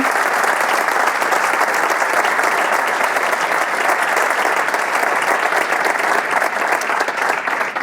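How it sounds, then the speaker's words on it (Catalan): Loud, dense applause from a large audience for award winners at a food awards gala, a steady sustained roar of clapping throughout with no pauses. "Un fort aplaudiment, per favor, per tots ells i elles, que es senti bé"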